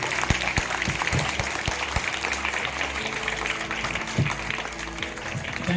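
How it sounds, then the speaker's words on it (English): A school audience applauds its trainers with steady, dense clapping throughout, a few louder individual claps standing out near the front. "please give a round of big applause for our school trainers"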